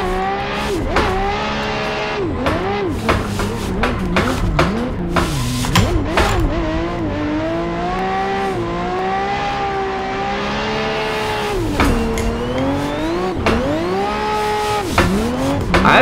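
A Lamborghini Murcielago drifts in a driving simulator game, its engine revving and wailing through rising and falling pitch sweeps while tires squeal almost continuously, loud and close, with brief sharp bursts between slides.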